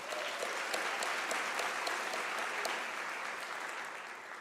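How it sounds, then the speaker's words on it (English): An audience applauds professors at a University of South Africa graduation ceremony, producing a steady wash of clapping at moderate distance with a few sharper individual claps standing out, tapering gently toward the end. "They deserve a round of applause."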